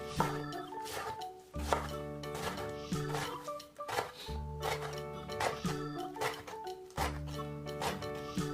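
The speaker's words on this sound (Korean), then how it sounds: "볶음에 들어갈 대파는 쫑쫑 썰기이며 김치는 속을 털어낸 후 역시 쫑쫑 썰기입니다" A knife chops green onion and kimchi finely on a cutting board. The quick, rhythmic taps come in close, steady bursts over a faint background tone.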